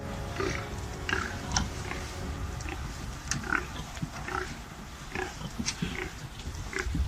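Pigs on a farm grunt and snort in a busy, irregular stream of short calls, some close and some farther off, over a steady background murmur.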